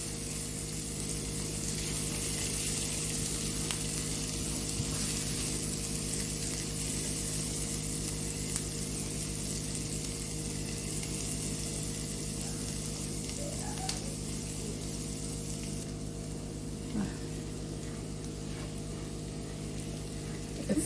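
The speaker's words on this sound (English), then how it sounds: "I'm gonna allow this to fry" Honey garlic chicken wings fry in hot oil with a quiet, steady sizzling hiss that holds evenly throughout, with no voices.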